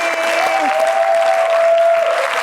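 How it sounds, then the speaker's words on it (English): Audience clapping for the team of a global beauty brand at a founder's talk, steady dense applause filling the whole moment, with a faint tonal hum running underneath. "let's clap for the Zaron team."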